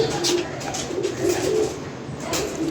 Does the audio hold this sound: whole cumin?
no